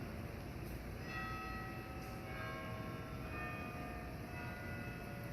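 Church bells ring out from a nearby church, a steady peal of overlapping tones heard faintly beneath a constant background hum.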